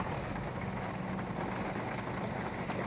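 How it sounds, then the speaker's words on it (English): Heavy rain pours steadily during a Houston thunderstorm, a dense, continuous broadband wash of raindrops on surfaces, loud and close with no pauses or speech. "I don't know if you can hear this, but it's raining pretty hard."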